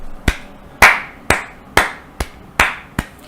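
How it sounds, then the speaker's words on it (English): Seven sharp, close hand claps ring out at an irregular pace, each one crisp and loud with a short decay and quiet gaps between them. "Latza clapped."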